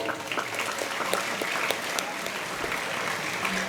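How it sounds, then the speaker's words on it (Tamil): A crowd claps at a school feast-day festival of a Sacred Heart primary and higher secondary school, with sharp individual hand claps standing out of a continuous, moderately loud wash of applause and faint voices mixed in. "கைத்தட்டலை"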